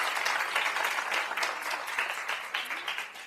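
Applause from an audience at the close of a statistics lecture on latent-variable analysis with Mplus, a dense steady clapping that fades slightly toward the end.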